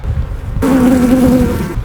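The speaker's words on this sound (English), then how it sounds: "This is the activity sound inside of a beehive." Bees buzzing inside a beehive, a loud, close, steady hum with a strong tonal drone that starts abruptly and holds for about a second before easing.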